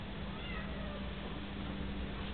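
A cat meows in a long, drawn-out, continuous call that fills the whole short stretch at steady loudness, close by, with no talking.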